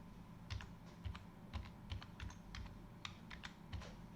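Quick, light key clicks on a computer keyboard as a password is typed at a superuser prompt, about a dozen evenly spaced taps close by with no voices.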